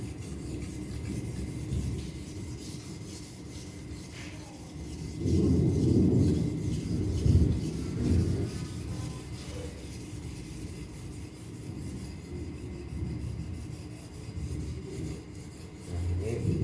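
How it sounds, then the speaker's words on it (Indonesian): Machete blade rubbed on a whetstone with long, even strokes, a continuous gritty rasping that swells and fades in slow repeated passes, fairly faint and close. "Tangannya stabil, ngasahnya rata dari ujung sampai ujung."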